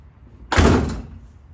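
Driver's side door of a 1987 Chevrolet Monte Carlo SS G-body shutting once with a solid, close thunk that rings out briefly and fades.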